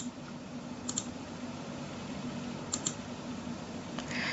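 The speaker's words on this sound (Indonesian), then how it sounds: "Misalnya saya input Samantha sebagai username." Fingers type on a computer keyboard, entering a username, as a few quiet key clicks in small clusters over soft background noise.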